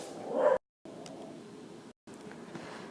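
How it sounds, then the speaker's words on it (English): Dogs in a home whimper and bark, with one louder whining burst near the start before brief cutouts, then quieter, ongoing canine noises in the background. "And that's my dogs."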